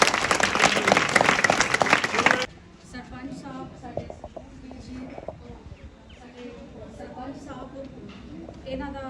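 A crowd claps loudly and densely for a couple of seconds at a Punjab village school ceremony honouring teachers and high-scoring students, then the clapping stops abruptly and a voice speaks.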